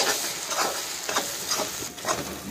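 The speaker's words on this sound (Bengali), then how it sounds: "এবার এটিকেও পেঁয়াজের সঙ্গে ভালো করে ভেজে নেবো কাঁচা গন্ধ যাওয়া অবধি" Ginger garlic paste frying with onions in a pan for a bitter gourd dish sizzles loudly up close, with four rhythmic stirring scrapes over a couple of seconds.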